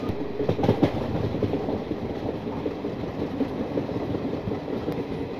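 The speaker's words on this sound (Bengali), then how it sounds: "এই ট্রেন জার্নি করব, আর সেটা LHB কোচে আপনাদের তুলে ধরবো।" The 13149 Kanchankanya Express with LHB coaches runs between Sealdah and New Mal Junction, a continuous rolling rumble with rhythmic wheel clatter and a few sharper knocks early on, heard from inside the train with no talk.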